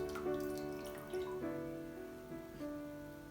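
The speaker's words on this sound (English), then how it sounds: "Then get the water and pour it in." Water is poured into a container of cucumbers for Korean salt pickles, giving a faint gurgling, ringing fill with a few splashy bursts as the pour continues.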